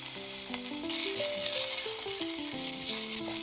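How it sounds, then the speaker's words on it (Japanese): Chicken thigh fries in olive oil with garlic in a pot, a loud, steady, close sizzle that stays even throughout, under a melodic background tune and with no talking. "鶏もも肉を加える。"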